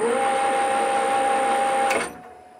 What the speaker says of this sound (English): So the VFD actively decelerates the motor